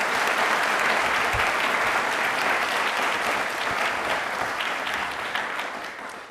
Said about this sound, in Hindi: दिल से तालियां उनके लिए बनती हैं.